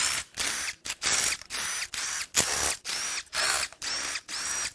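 Ratchet working loose the intake manifold bolts on a Vortec 8100 8.1L big-block V8 from a Silverado 2500 during teardown, heard as close, loud bursts of rapid clicking, about ten short runs separated by brief pauses, with no talking.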